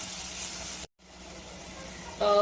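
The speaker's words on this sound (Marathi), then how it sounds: "हा जो कांदा आहे तो आपण व्यवस्थित असा परतून घेऊया" Chopped onions frying in oil in a pan for prawn rice, a close, steady soft sizzle that breaks off briefly, then resumes and swells louder near the end.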